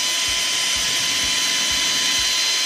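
Small drill boring a hole into a homemade wooden fishing lure: a continuous high whine with rhythmic low knocks repeating about twice a second, close and steady, no talking.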